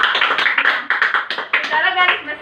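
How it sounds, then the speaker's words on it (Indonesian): A classroom group claps together during a lesson, with dense overlapping hand claps forming a steady, fairly loud burst of applause that pulses unevenly; voices murmur underneath. "tepuk tangan untuk kita semua"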